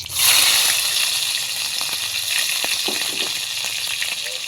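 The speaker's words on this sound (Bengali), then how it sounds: "জিরে দিয়ে দিচ্ছি, 3-4টে কাঁচা লঙ্কা চিরে নিয়েছি আর রসুন থেতো করে নিয়েছি, দিয়ে দেবো।" Cumin, slit green chillies and crushed garlic hit hot oil with a loud burst of sizzling that settles into a steady, crackling fry, heard up close with no one talking.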